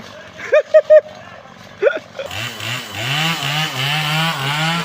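A small chainsaw revs up and cuts wooden posts steadily with a buzzing, wavering whine after a few short shouts.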